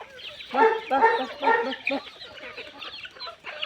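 Several free-range country hens cluck and chatter close by in quick bursts, with a rooster among them.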